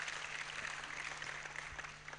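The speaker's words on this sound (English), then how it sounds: "I wish you could give them a round of applause because they've been very wonderful." Audience applause at a campus stop of the Obaasima Tour at UDS, heard as a steady, dense wash of clapping that sounds somewhat distant and quiet, with a faint low electrical hum underneath.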